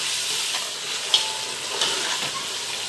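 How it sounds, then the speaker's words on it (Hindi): Ginger garlic paste with milk and garam masala stirred in a hot frying pan, a steady close sizzle and hiss with a couple of light spoon scrapes against the pan. "और इसको चला लेंगे।"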